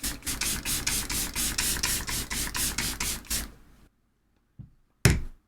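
Rapid repeated pumps of a makeup setting spray bottle, about a dozen quick hissing sprays in a steady rhythm, then silence and a couple of handling clicks.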